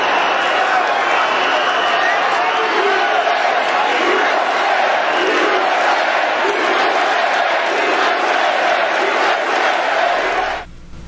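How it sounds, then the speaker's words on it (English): A large crowd at a Trump political rally chants and shouts in unison, a loud, dense roar of many voices sustained throughout before cutting off abruptly near the end. "you got Trump's crowd shouting, USA, USA"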